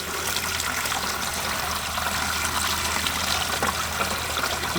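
Water runs steadily from a low-pressure hose or tap through a K&N style cotton air filter during cleaning, a continuous close splashing gush with no pauses.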